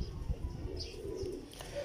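A Lal Pari pigeon gives soft, low coos in short bursts, fairly faint and close, with light rustling around it.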